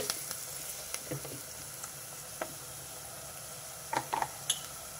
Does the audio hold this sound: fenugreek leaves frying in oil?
yes